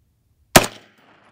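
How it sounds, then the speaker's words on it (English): A single gunshot from a rifle fitted with an ACU TEC AT-18 suppressor, a sharp close report with a short decaying tail into silence. "So I'm gonna shoot one more because the first shot I wasn't really ready for the trigger"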